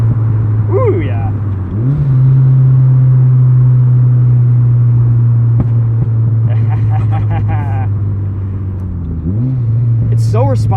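A turbocharged 2003 Mazda NB Miata engine drones loudly from inside the car, rising as it revs up, holding a steady pull, then dropping back, with talk over it.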